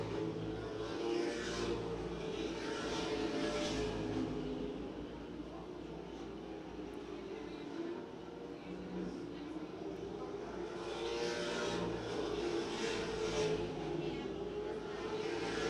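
Race cars circling a paved short track at Ace Speedway, a steady roar of engines with swells as cars pass nearby, continuous throughout under a commentator talking.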